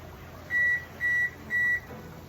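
A kitchen oven beeps three times in an even rhythm, each tone short, clear and electronic, over a faint low background hum.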